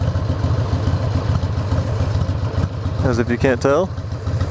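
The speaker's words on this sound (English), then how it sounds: "We are on my new bike. It is a 2000 Sportster 1200." A 2000 Harley-Davidson Sportster 1200 motorcycle idles loud and close with a steady, loping rumble throughout, while someone speaks briefly over it.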